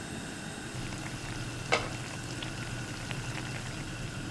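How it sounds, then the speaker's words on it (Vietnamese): Tapioca dough boils in a pot of vigorously bubbling water, a soft, continuous seething with one small clink partway through. "Khi nước sôi mạnh á, thì mình cho bột vào luộc nè"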